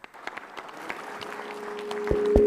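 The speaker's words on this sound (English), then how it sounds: "I think we deserve a good round of applause" Scattered claps from a conference audience after a panel session, sparse at first and thickening into steadier applause as it builds.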